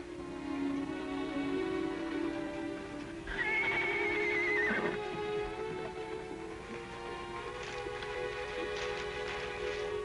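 A horse neighs loudly in a western scene, a long whinny rising and falling over steady background noise.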